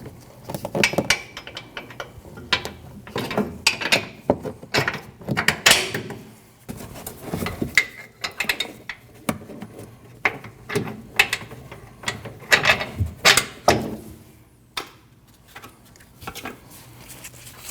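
Upper control arm bolts go into the frame of a Nissan NV2500 during a front control arm and ball joint replacement, heard as irregular close bursts of ratcheting clicks, metal clinks and handling noises with pauses between.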